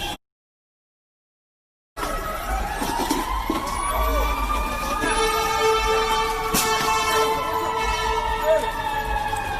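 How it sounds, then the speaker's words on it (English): Emergency sirens wail outside during looting at a Rolex store in the US, a loud wavering siren over traffic rumble after a brief silent gap, with voices talking faintly underneath. "you can hear the sirens"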